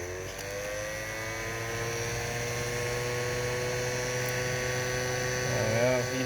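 A heat gun blows a steady, droning whir at close range as it warms the MAF sensor area on a Mercedes OM642 diesel engine, holding a constant tone throughout.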